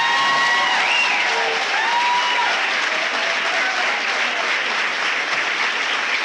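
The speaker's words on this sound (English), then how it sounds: "Please join me in a hearty round of applause for these young scholars." Loud, sustained applause from an awards-night audience at a senior awards ceremony, steady and dense throughout with a few faint voices rising over the clapping.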